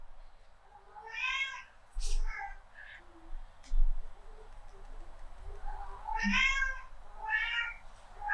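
A pet kitten meows several times in short, bright, repeated calls indoors, with a quieter pause between two clusters of meows, close and moderately loud against a faint background.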